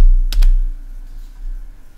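A few quick keystrokes on a computer keyboard, close and crisp clicks bunched near the start, followed by quiet background hum.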